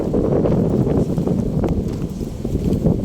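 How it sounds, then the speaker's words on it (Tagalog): Strong wind buffets the microphone during a motorbike ride, a loud, continuous low rumble and roar with no break. "Sobrang lakas ng hangin."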